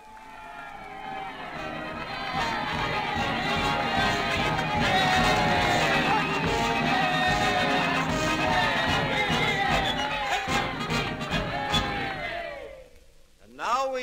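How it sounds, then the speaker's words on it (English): A radio drama crowd cheers in front of a big new building while a band plays, a dense, loud roar of many voices that swells and holds for about twelve seconds before cutting off abruptly. "Standing up in front of a big new building, the crowd cheering, the bands playing."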